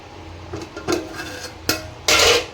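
Lid put on a cooking pot of tomato rice: a few metallic clinks and knocks of the lid against the pot rim, ending in a louder, ringing clatter as it settles in place.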